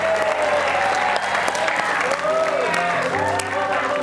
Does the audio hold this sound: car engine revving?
no